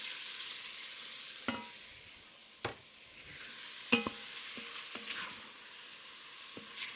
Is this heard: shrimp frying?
yes